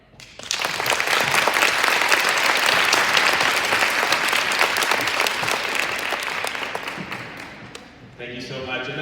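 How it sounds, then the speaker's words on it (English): An audience at a technology conference breaks into loud, sustained applause that lasts several seconds and slowly fades, before a voice starts speaking over the last of the clapping. "Another round of applause,"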